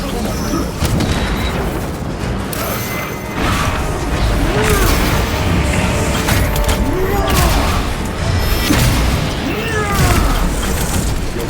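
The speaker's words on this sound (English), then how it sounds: "Using crack grenade!" Krak grenade going off in Space Marine 2, heavy booms and clanking mechanical combat noise on a busy battlefield, loud and close, with voices calling out over the din.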